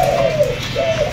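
A spotted dove coos close by, two soft, low, wavering hoots in a short phrase over a faint background hum.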